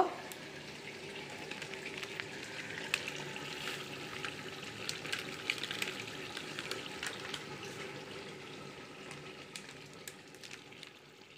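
Chicken biryani with fried onions and ready-mix spices frying in a large pot, a steady close crackling sizzle that runs without a break and with no talk.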